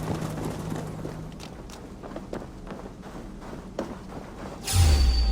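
Footsteps in the video game Assassin's Creed Valhalla, a series of soft, fairly steady thuds and taps under a constant ambient bed, ending in a louder low rumble.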